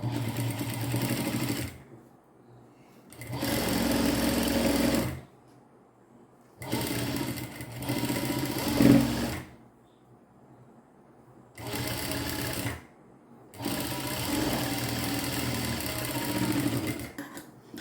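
A sewing machine stitches a folded hem on a pair of pants in several steady runs of a few seconds each, with silent pauses between, loud and close with no talking.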